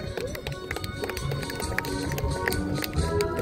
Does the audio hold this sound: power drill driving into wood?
no